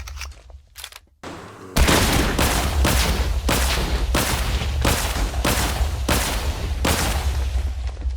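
An MK43 rifle firing explosive rounds in the Minecraft Scorched Guns 2 mod, fitted with a bump stock and extended magazine, sets off a loud, rapid, evenly spaced string of about a dozen booming blasts after a few faint clicks.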